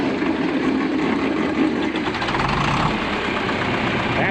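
A John Deere 3020 diesel tractor engine running at an auction, a loud, close, steady knocking rumble throughout.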